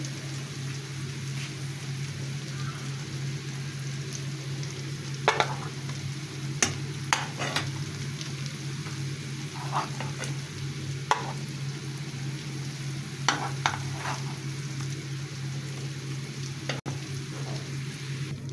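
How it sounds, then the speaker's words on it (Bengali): Sweet pumpkin pieces frying in a pan, a steady soft sizzle running throughout with occasional sharper crackles and stirring clicks, close and fairly quiet with no voices. "ঠিক আমি ভর্তার জন্য এভাবেই ভেজে নিয়েছি মিষ্টি কুমড়াটি"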